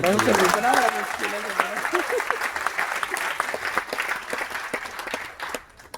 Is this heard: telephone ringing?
no